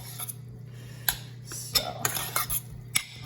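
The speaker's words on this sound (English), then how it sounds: "We're gonna mix this up." Utensil scraping and clinking against a bowl while pulled jackfruit is mixed with sauce, a series of irregular close clacks and scrapes over a steady low hum; a voice says one brief word.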